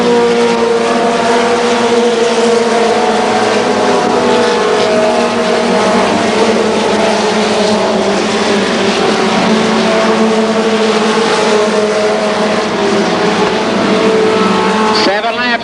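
Mini stock race cars roar around the oval at Columbus Motor Speedway, a loud, continuous pack of engine drone that stays steady while a race announcer calls positions over it.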